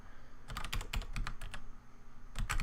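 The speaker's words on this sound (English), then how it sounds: "Look, I'm typing, that's it." Bursts of computer keyboard typing, quick clustered keystrokes in several runs with short pauses, close and fairly quiet, no talking.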